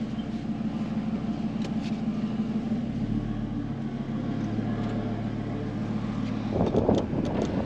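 An Audi RS3 8V with 367 horsepower and an RS exhaust idles with a steady low drone, shifting pitch partway through before a brief louder rise near the end, with no one talking.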